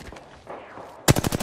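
Gunfire from the video game Apex Legends: after a second of quiet background, a loud, close burst of rapid automatic shots rattles off in quick succession, with no talking over it.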